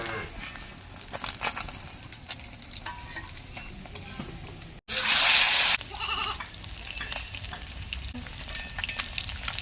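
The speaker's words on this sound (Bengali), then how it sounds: "আর যে মাছগুলো আছে একইভাবে ভেজে নেব" Live koi fish frying in oil in a home kitchen, a steady crackling sizzle with scattered pops, broken briefly near the middle by a loud, harsh burst of hissing spatter, with no talk.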